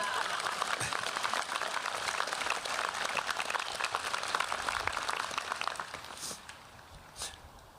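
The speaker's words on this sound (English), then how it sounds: "You can clap for that." Audience applause at a 2023 high school commencement ceremony, a steady wash of many hands clapping that fills the space for several seconds before thinning out and fading near the end.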